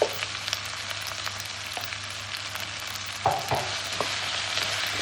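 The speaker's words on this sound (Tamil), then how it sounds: "வெண்டைக்காய் போட்டு கொஞ்சம் நல்லா வதங்கணும்." Okra sautéing in a pan with tomato and onion gives a steady, close sizzle, with a few scraping stirs and clinks partway through and no voices.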